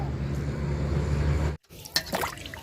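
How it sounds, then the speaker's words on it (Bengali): Sarpunti fish being rinsed clean in water in a home kitchen: a steady watery rush and swish for about a second and a half, then a sudden stop followed by a few wet splashes and clatters. "তো মাছ ধুয়ে নিব পরিষ্কার করে"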